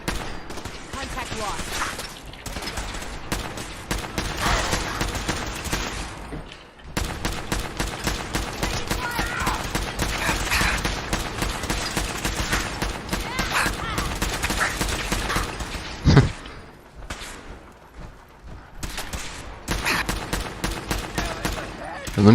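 Sustained bursts of rapid gunfire in the video game Fallout 4 rattle on for a long stretch, dense and loud, with brief pauses between volleys.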